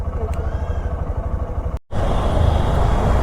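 On a busy road crowded with motorbikes, engines drone and pass continuously close by while someone talks over the traffic, with one brief drop-out midway.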